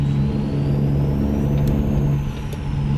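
A truck engine in American Truck Simulator drones steadily with a low hum and a rising whine, loud and close, holding a constant rev throughout.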